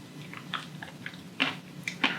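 Finger lime pulp beads crunch between teeth in a close, quiet series of crisp, irregular bites and chews.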